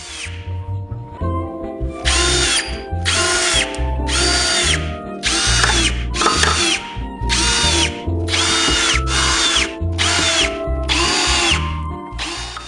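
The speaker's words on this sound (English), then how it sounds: "drill them into place using the wood screws provided" A power drill whirs in about ten short bursts, each driving a wood screw into desk brackets, with brief pauses between them, loud and close.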